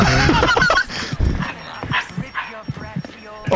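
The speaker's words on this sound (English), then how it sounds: "Oh, is that your dog?" Barking from a dog in the horror video game The Outlast Trials, a few sharp yaps near the start, heard alongside chatter from several players talking over the game.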